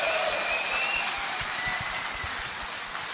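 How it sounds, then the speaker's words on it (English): Applause for a rugby play against the All Blacks, a steady wash of clapping heard at a moderate distance with a soft hiss underneath, continuous and even throughout. "Round of applause for that, everybody."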